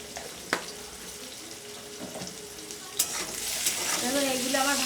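Shrimp frying in oil with turmeric, a steady close sizzle with a few sharp clicks, swelling into a louder, brighter hiss near the end while a faint voice comes through.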